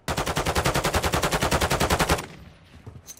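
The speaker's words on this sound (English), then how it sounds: "I'm getting shot." Rapid automatic gunfire in the video game Warzone 2.0, a loud, close, steady burst of evenly spaced shots lasting about two seconds before cutting off to quiet background.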